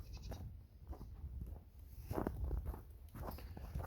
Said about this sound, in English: Here come the goats playing out in the snow.